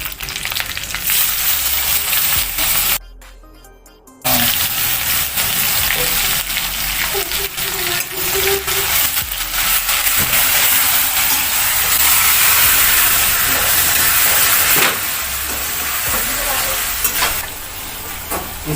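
Mustard seeds, curry leaves and green chili paste frying in hot oil give a loud, steady sizzle and crackle that runs throughout, with one short dip to near quiet early on.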